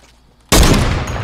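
Gunfire rings out in Fortnite, a sudden loud burst of shots after near silence, sustained and dense for the rest of the moment.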